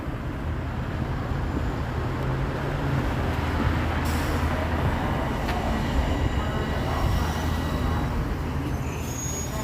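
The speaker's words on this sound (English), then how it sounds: "we're gonna wait for this train to pull out here" In Toronto, a train rumbles steadily as it pulls out of a station, a low continuous mechanical drone with a brief hiss of air partway through and no talk.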